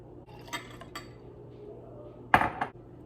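A clear coffee cup is picked up and set down, giving a few sharp glassy clinks with a louder knock near the end, alone in a quiet kitchen.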